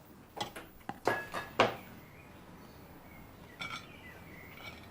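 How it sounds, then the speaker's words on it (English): A utensil clinks and scrapes against a bowl as a prawn and black rice salad is stirred, a handful of sharp knocks early on followed by softer, quieter contact. "Now you just need to stir everything together."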